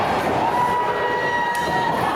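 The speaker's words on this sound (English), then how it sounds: "Listen to the crowd." A wrestling show crowd fills the room with a steady, dense roar of cheering and shouting, constant and loud throughout, with a brief sharp accent near the end.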